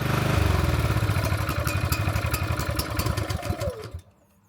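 A gas-powered portable generator engine runs close by with a rapid, even chugging clatter, then sputters and winds down to a stop near the end.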